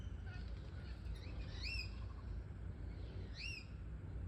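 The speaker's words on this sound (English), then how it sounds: "That bird there is a rainbow lorikeet" A rainbow lorikeet calls in a garden: two short, high, chirping calls, a couple of seconds apart. They sound distant and fairly faint over a steady low background rumble.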